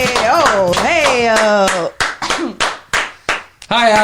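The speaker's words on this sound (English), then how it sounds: "You can clap very loud" A podcast guest claps loudly, giving a run of sharp, close hand claps with short gaps between them. Voices talking and laughing come just before the clapping.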